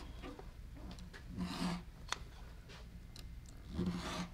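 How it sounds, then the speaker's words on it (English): Rotary cutter or blade trimming pressed fabric quilt units around a Creative Grids Starburst 30 degree triangle ruler, giving soft rasping strokes in a few bursts, close and fairly quiet with no talk. "I'm just going to trim all the way around."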